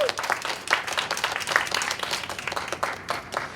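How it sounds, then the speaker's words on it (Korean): A concert audience in Korea applauds warmly, with distinct individual hand claps forming a lively, fairly close patter that keeps a steady level throughout. "자, 큰 박수 부탁드릴게요."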